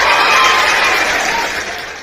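An indoor audience applauds with a dense, even burst of clapping that holds steady for about two seconds, then thins and stops abruptly.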